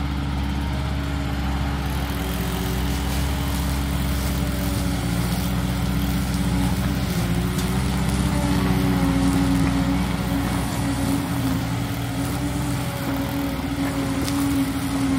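A heavy equipment engine runs steadily while fill is loaded into a trailer. A constant low rumble with a mid-range drone holds throughout at moderate distance, with no talking.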